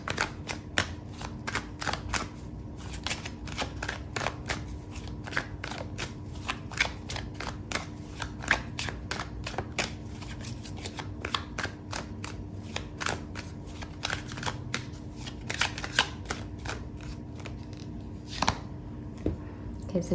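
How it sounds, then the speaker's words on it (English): Tarot cards are shuffled and pulled by hand, giving a steady stream of crisp, rapid flicking and snapping card sounds close up throughout, with a faint constant background hum. "Okay, so I'm going to pull out another card for you"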